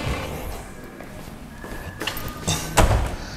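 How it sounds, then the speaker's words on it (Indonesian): Four-leaf folding door running along its lower guide rail, giving soft rolling scrapes and a few clacks of the panels, louder near the end with a sharp knock. "Jadi di sini ada guide rail bawah sebagai guidernya yang memastikan setiap pintu itu berada pada railnya masing-masing dan tidak lari ketika dibuka atau ditutup ya"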